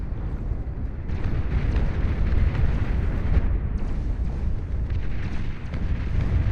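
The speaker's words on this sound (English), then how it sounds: "That's that geothermal firing at me." In the video game Beyond All Reason, a geothermal unit fires, giving a continuous low rumbling roar of blasts and bursts that holds loud and steady for the whole stretch with no talk over it.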